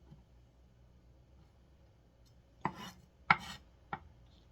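Three crisp knife chops land on a cutting board through napa cabbage, spaced roughly evenly, clear and close after a quiet stretch.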